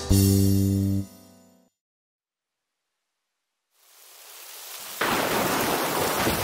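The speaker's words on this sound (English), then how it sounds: "it's raining." Rain falling, brought in after a short burst of music and a moment of silence: a soft hiss fades up, then jumps to a louder, steady, even wash of rain that continues to the end.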